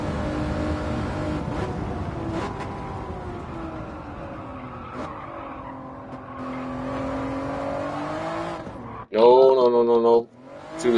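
Honda NSX race car in Gran Turismo 7 lapping Interlagos, its engine droning steadily with shifting pitch, then a sharp louder burst of revving near the end, with a voice talking faintly underneath.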